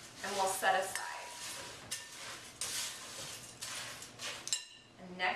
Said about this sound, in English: Then you'll mix the dry ingredients together well